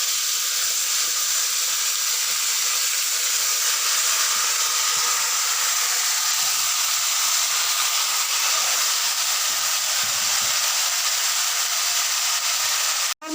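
Marinated chicken meat hits hot oil in a pan and sizzles loudly, a steady, bright, hissing fry that continues unbroken for over ten seconds and then cuts off abruptly.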